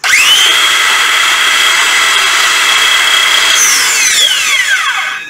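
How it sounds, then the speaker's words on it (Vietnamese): A Makita 18V cordless power tool runs at steady high speed, loud and close, then winds down as it is released near the end, with no talk. "Nghe như tiếng máy cưa cơ điện nha mọi người"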